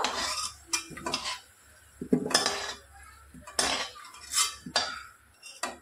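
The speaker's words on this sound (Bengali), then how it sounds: "তো আলুগুলো সব আমি একটা থালার মধ্যে তুলে নেব।" A metal utensil scrapes and clinks against a pan and plate in short irregular bursts as red-fried potatoes are lifted onto a plate, close and fairly quiet, with brief pauses between scoops.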